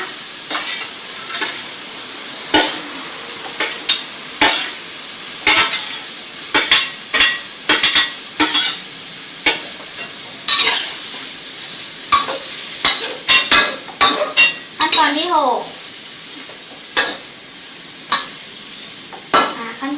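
Spring onions are stir-fried in a pan for a squid basil stir-fry, with repeated sharp metallic scrapes and knocks of a utensil against the pan over a soft sizzle, close and loud, in irregular bursts.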